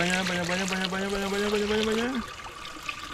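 Water poured onto sago pulp in traditional sago processing in Rutong, a steady gurgling pour with a rising pitch as the vessel fills, stopping abruptly after two seconds, with a voice speaking in the background.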